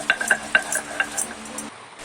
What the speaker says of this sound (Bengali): তেল দিয়ে আমি পেঁয়াজগুলোকে আগে ভেজে নেব